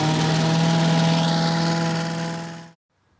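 A Briggs & Stratton 6.5HP Vanguard small engine runs at a steady, loud drone with a strong hum, then cuts off abruptly into near silence.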